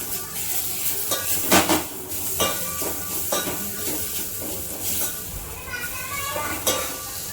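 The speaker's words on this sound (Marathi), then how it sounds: "आणि इथे मी बारीक चिरलेला टमॅटो आहे तो टाकते आहे" Finely chopped tomato goes into a pan of spiced masala with ground coriander and cumin, sizzling steadily under a continuous hiss, with occasional spoon scrapes up close.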